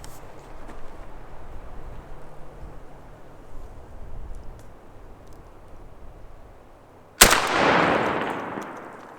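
A single loud gunshot strikes a cinder block brick wall outdoors, a sharp blast after several seconds of quiet ambient noise, followed by a decaying rumble.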